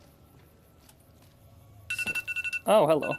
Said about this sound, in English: That's my alarm telling me that I should probably go to sleep.